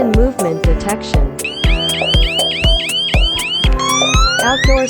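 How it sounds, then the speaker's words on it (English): Outdoor siren of a WiFi/GSM burglar alarm system sounding loud and close, a repeating electronic pattern of sharp pulsed tones and rising sweeps that shifts mid-way into steadier wailing tones. "Outdoor siren alarm."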